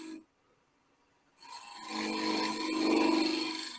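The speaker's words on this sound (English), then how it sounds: "we can dig and actually shape quite a bit with a scraper" A shear scraper shaping wood on a lathe, a close, rough continuous scraping rasp that starts after a quiet moment and swells steadily.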